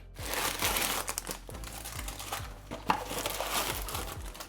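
Close crinkling and rustling of a plastic packet of buckwheat, crackling steadily in small bursts with a few sharper crunches.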